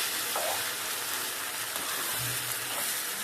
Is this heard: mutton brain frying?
yes